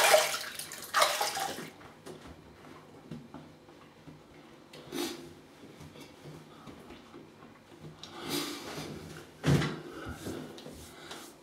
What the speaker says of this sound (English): I'll just rinse off with some hot and cold and I'll be back.